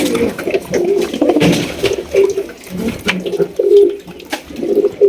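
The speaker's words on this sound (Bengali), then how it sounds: "খুবই চমৎকার একজোড়া গোল্লা কবুতর" A pair of round golla pigeons cooing close by in repeated throaty phrases, with soft background noise between the calls.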